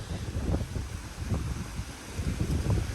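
Gusty storm wind buffets a house in Vietnam with a low, continuous rumble and irregular surges, fairly steady and without voices.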